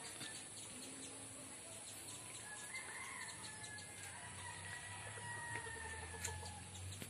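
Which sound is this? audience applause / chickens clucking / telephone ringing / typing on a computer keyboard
chickens clucking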